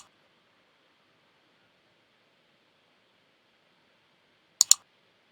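A computer mouse gives two quick, sharp clicks close by, late in an otherwise silent stretch, while Spring Boot project setup is done on a computer.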